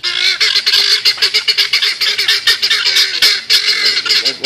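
A gray duck honks and squawks loudly and close in a rapid run of harsh, nasal calls, one after another with barely a pause.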